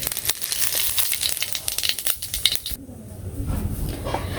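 Spices for tempering hit hot oil in a village kitchen kadai before small puti fish go in, giving a busy crackling sizzle for about three seconds that then drops to a softer, duller hiss.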